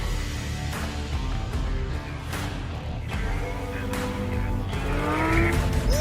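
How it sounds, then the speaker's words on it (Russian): A Lamborghini Huracan V10 drives on a winter track, a steady engine roar rising and falling through gear changes, with light tire noise and a faint squeal toward the end, with no talk. "Lamborghini Huracan V10."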